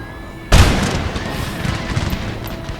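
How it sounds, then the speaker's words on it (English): A single loud, simultaneous musket volley erupts from massed troops in Empire: Total War (Darthmod, Ottoman campaign), a heavy boom that rolls off into a long, rumbling battlefield tail with scattered distant pops. "it's so satisfying just hearing the simultaneous volleys go off"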